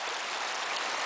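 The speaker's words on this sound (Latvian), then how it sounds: "Šitāda straume." Fast-flowing floodwater rushes along a stream during heavy rain in Brisbane, a loud, continuous broadband roar with no break.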